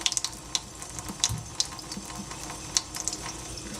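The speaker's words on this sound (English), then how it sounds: "just 2 quick rinses of fresh water." Fresh tap water pours steadily into a sink for a quick rinse of brine shrimp, giving a close continuous splash with occasional sharper drips and knocks on top.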